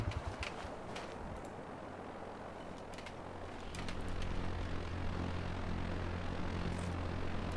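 In the game Arma 3 Antistasi, a UAV drone flies overhead with a faint, steady propeller drone that swells slightly halfway through, set against ambient outdoor noise.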